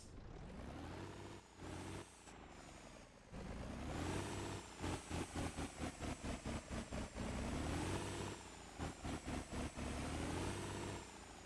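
Truck engine in the video game MotorTown idling with a throaty, low rumble, interrupted by rhythmic revving pulses and rapid throttle blips before settling back to a steady idle.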